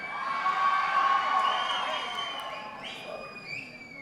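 A crowd at an audio launch event cheers and whoops with scattered applause, loud at first and then fading. Raised voices and shouts stand out above the general din.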